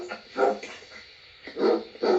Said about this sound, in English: It's funny watching the dog run around the room